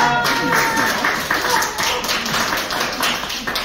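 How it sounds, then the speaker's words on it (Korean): Applause from attendees at a small-business federation board meeting in a Korean restaurant, a dense, steady patter of clapping that carries through the whole stretch at an even level. "박수 한번 주세요"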